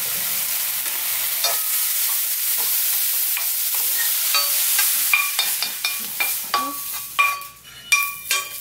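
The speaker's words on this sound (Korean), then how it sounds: "간장과 올리고당이 들어가면서 불을 끄고 남은 열로 이렇게 볶아줘도 돼요" Seasoned dried squid is stir-fried in a pan with soy sauce and oligosaccharide syrup over residual heat, as a gimbap filling. A spatula scrapes and clinks against the pan in quickening strokes over a soft, steady sizzle, close up and with no talk.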